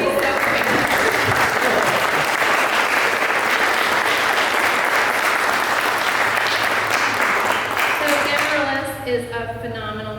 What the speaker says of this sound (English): Can everybody clap?